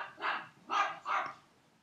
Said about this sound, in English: Sorry, the dogs are really barking.